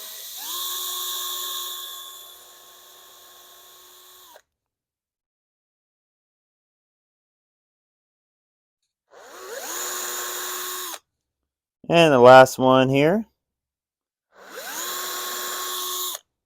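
A power drill whirs in three separate bursts, pre-drilling holes in wood, spinning up and winding down, close and loud, with a short spoken line between them.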